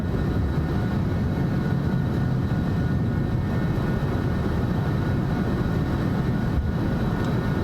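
A flight-simulator airliner's engines during a takeoff climb, heard as a steady, loud, continuous roar that stays even throughout with no talking.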